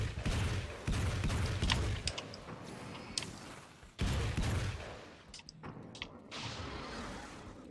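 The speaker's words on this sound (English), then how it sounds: "this gun runs out of ammo really fast" Sustained automatic gunfire from a weapon in the video game Alan Wake's American Nightmare, several dense bursts separated by brief gaps, with clicks near the end as the magazine runs empty.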